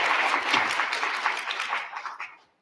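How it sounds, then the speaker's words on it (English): Conference audience at a brain health summit gives a speaker a dense, steady round of applause up close, tapering off and ending abruptly after a couple of seconds. "please give Rune a round of applause"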